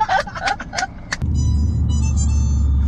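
Steady low rumble of street traffic inside a car in Istanbul traffic, a continuous engine-and-road drone settling in after a few seconds of bright chatter-like sounds, fairly loud and even throughout.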